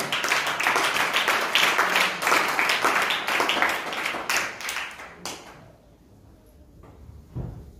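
A church congregation at an Easter service applauding in praise, dense clapping that runs for about five seconds and then thins out to a quiet room with a few stray knocks.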